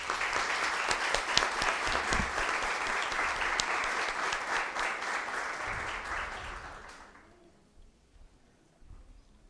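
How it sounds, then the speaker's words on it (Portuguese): Applause fills a municipal council chamber after a motion passes, a dense sustained clapping that stays strong for several seconds and then fades away into quiet room noise. "Peço uma salva de palmas."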